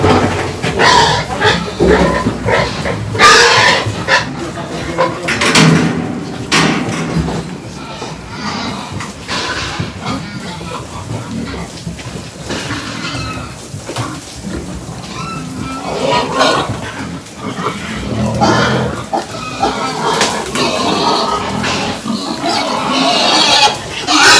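Pigs grunt and squeal loudly and repeatedly at close range, with a noisy crowd of them making a continuous, rough chorus and some voices mixed in.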